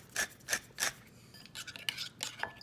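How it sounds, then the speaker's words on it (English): Corn salad with dressing, herbs and spices being stirred in a bowl, giving a few separate scraping, rasping strokes in an uneven rhythm, close and fairly quiet with no voices. "So I'm going to give this a good stir and get all the herbs and spices in there"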